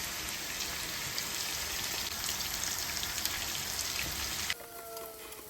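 Chicken pieces coated in masala fry in a kadhai, a steady dense sizzle like rain that carries on for several seconds, then drops abruptly to a quieter crackle near the end.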